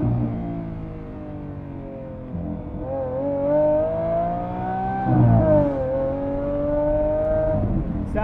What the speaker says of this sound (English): when you get to the high RPM ranges, it sounds so good.